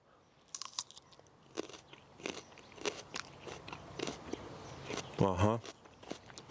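A raw cucumber is bitten and chewed up close, producing repeated wet crunches in an irregular rhythm, with a brief voiced murmur near the end.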